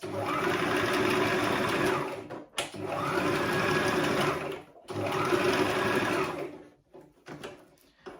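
Sewing machine stitching tulle mesh fabric for a turban: three sustained runs of close, steady motor whirring and needle chatter, each separated by a brief stop, with the machine falling quieter at the end.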